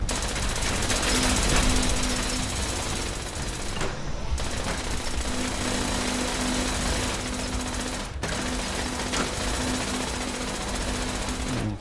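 Sustained rapid automatic gunfire in Fallout 76, a dense continuous rattle with brief breaks, loud throughout.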